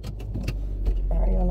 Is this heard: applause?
no